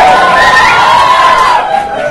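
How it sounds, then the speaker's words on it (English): A comedy club crowd in Miami cheers and whoops loudly and close, a sustained roar of voices across the whole moment. "You guys are cheering."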